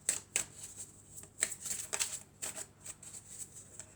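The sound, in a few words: tarot cards being shuffled and drawn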